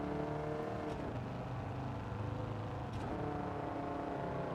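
Race car engine in the video game Gran Turismo 7, a steady loud drone rising and falling in pitch as it revs through the gears.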